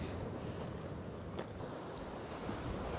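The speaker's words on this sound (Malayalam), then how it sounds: "പക്ഷെ നല്ല തിരമാല അടിക്കുന്നുണ്ട്, കണ്ടില്ലേ." Sea surf breaking against a rocky shore at Thangassery in Kollam, a steady broadband wash of waves with wind noise, continuous and fairly loud throughout with no talk.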